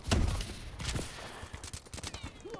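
Gunfire in Call of Duty: Advanced Warfare multiplayer rattles in rapid bursts and scattered shots, mixed with heavy thumps and impacts at fairly close range.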